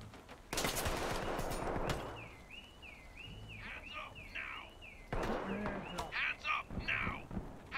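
Sharp bursts of gunfire in the game Ready Or Not crack out in rapid volleys at the start and again near the end, with quieter game sounds and chirps in between.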